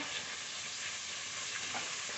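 Fish fries in oil in a wok, giving a continuous, soft, even sizzle with faint crackles throughout and no voices.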